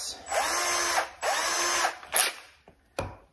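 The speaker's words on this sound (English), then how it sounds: "I'm just going to drill this through now with a regular bit." A handheld power drill with a regular bit bores through rattan furniture in two sustained whining bursts, each about a second long, followed by a few short clicks and knocks as the drilling stops.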